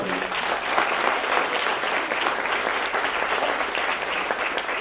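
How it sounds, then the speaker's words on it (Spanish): Conference audience breaking into sustained applause, a thick, even roar of many hands clapping close and loud for the full stretch without pause. "Un aplauso, por favor."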